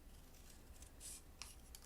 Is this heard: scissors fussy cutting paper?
yes